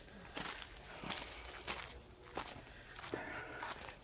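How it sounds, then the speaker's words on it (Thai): Footsteps climb a mountain nature trail in Buriram province, Thailand, with about six slow, crunching steps at an even walking pace, close by and moderately quiet, with no talking. "อันนี้เดินขึ้นเขาแล้วนะคะในท่านผู้ชมบรรยากาศของการเดินขึ้นเขา"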